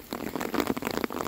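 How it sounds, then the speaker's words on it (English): Heavy rain pours down in a dense, continuous patter of drops on surfaces, loud and close, with no voices over it. "Now it starts raining really heavy"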